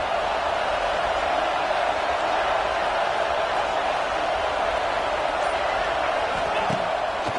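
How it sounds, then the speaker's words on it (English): A football stadium crowd keeps up a dense, steady roar of cheering and noise early in the game, loud and unbroken throughout, with a commentator's voice faintly audible beneath it. "This crowd bringing the energy and noise early."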